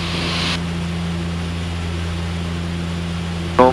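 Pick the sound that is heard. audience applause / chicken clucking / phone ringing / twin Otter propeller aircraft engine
twin Otter propeller aircraft engine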